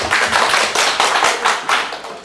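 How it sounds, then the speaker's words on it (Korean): A lecture audience in a Korean real estate agent exam law class claps briefly, a loud, close patter of many hands in uneven bursts for about two seconds. "박수 한번 쳐주시고"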